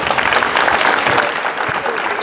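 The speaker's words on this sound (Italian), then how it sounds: "Potete anche fare un applauso." Audience applause for a short-film competition entrant, a dense steady patter of many hands clapping at close range, with some speech-like sounds mixed in.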